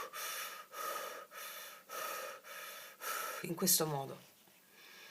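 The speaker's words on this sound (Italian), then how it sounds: "Puoi farlo dalla bocca, tipo il respiro circolare, che è quello che inali tanta aria dalla bocca." A deep inhalation through the mouth, as in circular breathing, follows a run of regular pulsing background sounds; a voice speaks briefly over it.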